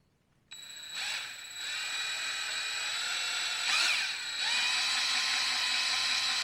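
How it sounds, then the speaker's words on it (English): A drill spinning a stir rod in primer whirs at steady high speed with a strong whine, briefly revving up and changing pitch partway through; no voices. "We're gonna stick that on a drill."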